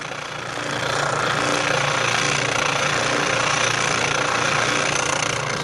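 Spindle sander rounding over the edges of a wooden cutting board, a steady loud motor drone that ramps up over the first second and then holds even, with rough vibration and no talking.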